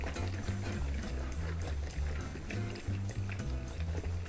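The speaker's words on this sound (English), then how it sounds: "We're just going to lift the fermenter, firmly hold it, and shake it." Liquid wort sloshes back and forth inside a one-gallon beer fermenter being lifted and shaken by hand to aerate it, a continuous rhythmic churning of splashes, close and fairly loud, with no talk.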